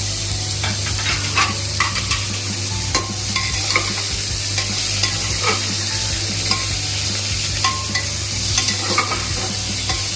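Tomatoes and green chillies frying in a pan for soybean dal, a loud continuous sizzle with repeated spatula scrapes and clinks as they are stirred throughout, no voices.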